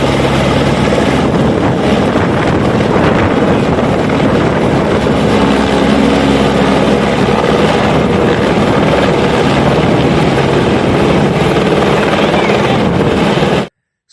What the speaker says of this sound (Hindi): कुछ देर काम पूरा करने के पश्चात इस हेलीकॉप्टर ने वापस उड़ान जो है चंडीगढ़ के लिए भरी